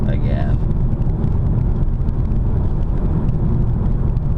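A car driving along a quiet country road over hills, with a steady low engine and road rumble continuing throughout and no talking.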